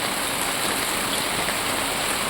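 Steady, loud rain pours down without a break, a dense, even hiss with no voices.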